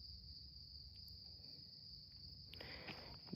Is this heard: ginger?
no